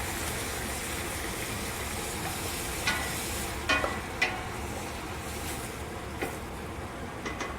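Peppers and onions cook down in a pan for barbecue sauce, giving a steady, close sizzle with a few light utensil taps.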